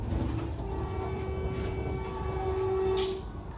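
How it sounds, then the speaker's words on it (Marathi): A Vande Bharat express between Kalyan and Shirdi running at about 120 km/h, heard from inside as a continuous rumbling roar with faint squeals and rattling mechanical clatter, no voices. "आता चाललाय 120च्या स्पीडला ट्रेन आणि जबरदस्त स्पीड आहे"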